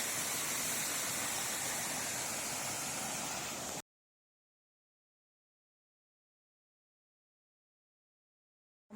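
Eureka Creek flowing along the Appalachian Trail near Delaware Water Gap, Pennsylvania, a loud, close, steady rushing hiss that cuts off abruptly after about four seconds, leaving silence.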